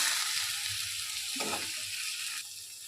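Fish roe hits hot oil with onions and turmeric in a pan, giving a soft, continuous sizzle with a brief stirring scrape partway through and no talk.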